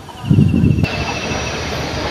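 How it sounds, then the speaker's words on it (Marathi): A train pulls into a station with a loud low rumble in the opening moments, then a steady mechanical drone and a thin high whine carry on as the noise settles. "आता आपली ट्रेन आलेली तुम्ही बघू शकता"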